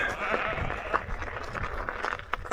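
A sheep bleats a few times in a farm yard, faint and mid-distance, amid rustling and outdoor background noise.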